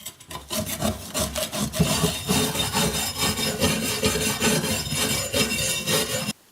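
A Husqvarna CTH 151 mower blade is scrubbed clean with rapid, rhythmic rasping strokes, loud and close, a steady back-and-forth scraping that stops abruptly at the end.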